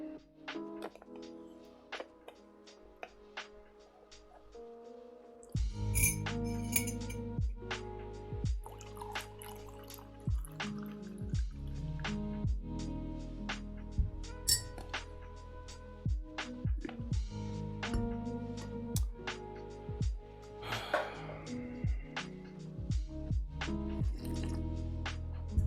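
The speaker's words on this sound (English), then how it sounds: "Okay, I'm gonna pour a cup of tea." Tea is poured into a cup at a desk, with liquid trickling and dripping amid scattered clinks and ticks, quiet and close, sounding unhurried over about twenty-five seconds.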